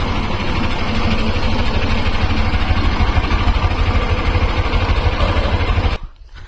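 A tractor engine runs at a chickpea threshing site, giving a loud, steady mechanical drone with a fast rhythmic throb. It cuts off abruptly near the end.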